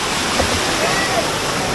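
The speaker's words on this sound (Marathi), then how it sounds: "आपण आता हा एक धबधबा आहे" A waterfall in Navale village, Sindhudurg, roars loud and close as a dense, unbroken wash of falling water.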